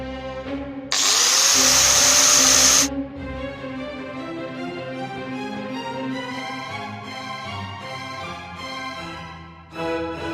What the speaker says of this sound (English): let's try grinding down one of these legs